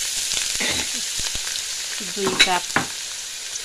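Chopped onions hit hot melted ghee in a pot, setting off a steady broadband sizzle with a few stirring clatters and bumps near the middle, close and fairly loud, with a brief spoken word over it.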